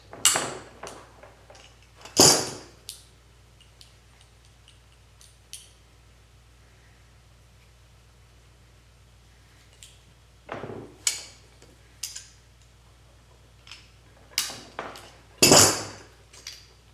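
Pliers clink and scrape against steel parts of a MarColMar CETME L rifle during field stripping, giving sparse sharp metallic clicks with a few louder clanks near the start and end over a low steady hum.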